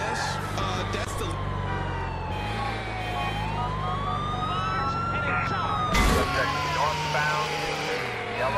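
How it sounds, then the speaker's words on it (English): Police sirens in GTA IV gameplay, a wailing tone rising and falling over a continuous low engine and traffic rumble, with a loud burst partway through. "Hey, I don't like the sound of sirens."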